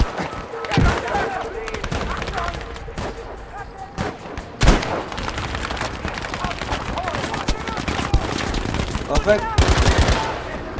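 Gunfire in the Battlefield V video game: loud rapid bursts and sharp single shots rattle steadily throughout, with someone talking over the battle.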